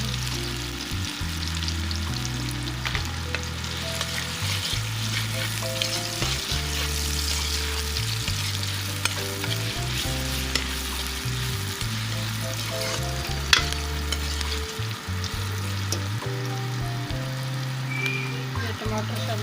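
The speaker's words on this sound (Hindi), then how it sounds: "अब मैं लहसुन अदरक की पेस्ट शामिल कर रही हूँ।" Garlic ginger paste frying with onions in a pan, a steady dense sizzle with occasional stirring scrapes and soft clatters, heard close and continuous.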